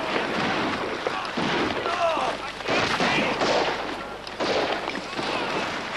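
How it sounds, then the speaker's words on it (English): Distant gunfire rolls through a battle, with dense bursts and rumbling shots running steadily across the whole stretch, mixed with shouting voices. "permission to go to the sound of the firing"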